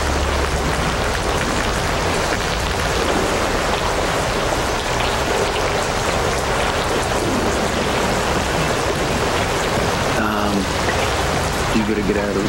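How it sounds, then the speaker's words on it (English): Steady, heavy rain pours down outdoors as a dense continuous hiss with occasional deeper rumbles, close and loud throughout, and a brief voice-like sound near the end. "You gotta get out of the rain."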